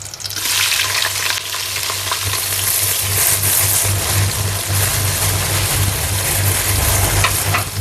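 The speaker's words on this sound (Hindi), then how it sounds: "अब प्याज डालूंगी" Loud, continuous sizzle of onions frying in hot oil with cumin, occasional stirring scrapes and a low steady hum underneath, no talking.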